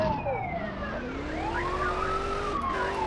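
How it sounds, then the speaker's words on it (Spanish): A police car siren in the PlayStation game Grand Theft Auto 2 wails in rising and falling sweeps, loud and continuous over low engine noise. "Voy a quitar la sirena porque me está rayando."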